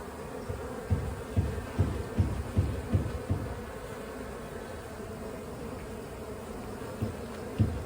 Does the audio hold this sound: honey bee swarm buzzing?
yes